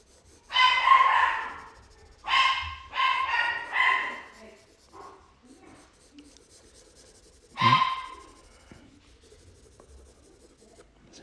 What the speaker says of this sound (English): My dog is going crazy. He really does not like the UPS man or the FedEx man.